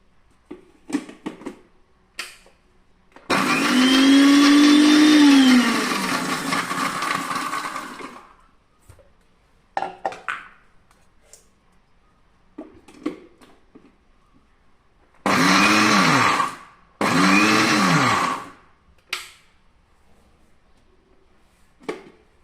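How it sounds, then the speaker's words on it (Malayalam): A kitchen mixer grinder crushes onion, garlic, green chili and curry leaves in three loud whirring bursts, one long run followed later by two shorter pulses, with quiet clicks and handling noises in between. "ആദ്യം നമുക്ക് ഉള്ളി വെളുത്തുള്ളി പച്ചമുളക് കറിവേപ്പില ഒന്ന് ചതയ്ക്കാം"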